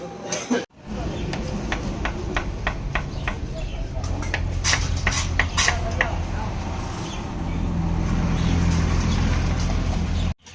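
A motorbike rides along a road on a long trip, its steady engine and wind noise continuous and close, with brief breaks and a few sharp clicks and knocks over the drone.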